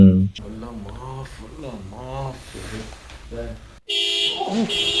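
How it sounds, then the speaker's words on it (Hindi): Someone talks for a few seconds, then a car alarm suddenly starts blaring nearby with a loud, repeating electronic tone. "मैं पलटता हूँ और वो गाड़ी अलार्म करती है"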